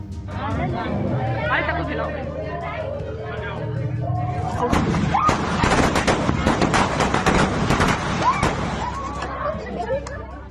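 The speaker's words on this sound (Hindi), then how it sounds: "खुशी में पटाखे छोड़े गए।" Firecrackers bursting in a Diwali-style celebration at the homes of rescued tunnel workers, with a dense, crackling rattle of rapid pops building loudly over voices and crowd babble.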